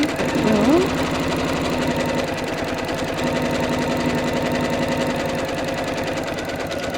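Sewing machine running steadily and loudly while stitching pleats into a fleece ring sling, a continuous rapid mechanical whir with even rhythm throughout.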